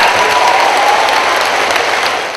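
Thunderous standing ovation at a Pakistani ceremony honoring Balochistan's daughter, a dense, loud wall of applause with cheering mixed in, steady for a couple of seconds before easing slightly.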